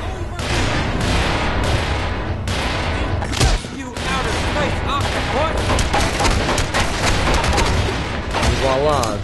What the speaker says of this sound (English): The second time, I believe I just throw a grenade.